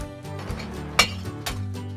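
Glass items clink and clatter as they drop into a recycling truck compartment, a sharp bright clink standing out midway over a steady low mechanical hum, with a second softer clink shortly after.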